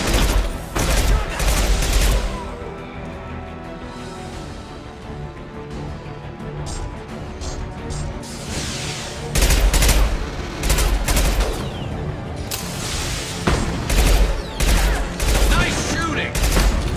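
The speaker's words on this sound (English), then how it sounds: "Nice shooting!" Mass Effect 2 combat gunfire comes in loud clustered volleys of shots with quieter stretches between, up close, while voices talk over the action.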